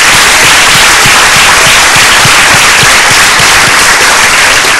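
A congregation applauds loudly during a church service, a dense, continuous roar of clapping, close and saturated, with sharp individual claps punctuating the wash for several seconds.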